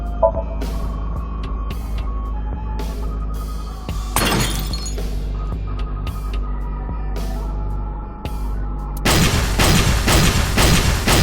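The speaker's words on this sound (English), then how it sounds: "The explosions made the room change." Explosion-like crashes and shattering bursts from the video game AI: The Somnium Files sound over a low droning hum, with one sharp burst in the middle and a louder, sustained crash near the end.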